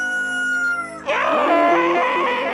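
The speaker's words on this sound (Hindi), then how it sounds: "गांव में लोगों की चीखने और चिल्लाने की आवाज सुनाई देने लगती है।" Loud screaming and shouting from villagers starts abruptly after a held tonal sound, with several overlapping wailing voices continuing to the end.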